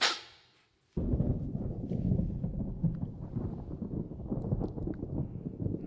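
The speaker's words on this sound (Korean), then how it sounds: "저 천둥 치는 소리예요, 저거에." Deep, sustained thunder rumble from a film scene about Luther, starting abruptly after a brief high hiss and rolling continuously at a steady loud level with no speech.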